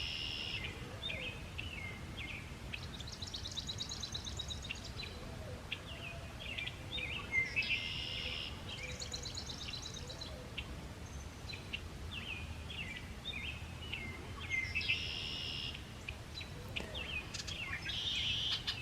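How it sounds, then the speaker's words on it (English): Red-winged blackbirds call repeatedly from trees in a forest on a spring morning, bright trilling phrases recurring every few seconds, moderately distant, over a steady outdoor background hiss. "I think there's a male red-winged blackbird up in that tree."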